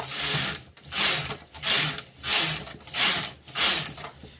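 A Toyota KS901 knitting machine knits lace, its carriage sweeping back and forth in six loud rhythmic passes, each a rushing mechanical whir with short pauses between strokes.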